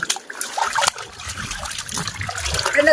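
Water splashing and trickling into a homemade swimming pool at home, a fairly quiet, uneven flow with a few louder splashes and some background activity.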